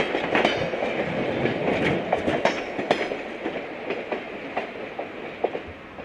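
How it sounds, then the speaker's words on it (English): A passenger train on the Santa Cruz Branch rolls past, wheels clicking and clattering over rail joints in an uneven rhythm at moderate distance, with a faint squeal now and then. "as the train passes through the seascape area"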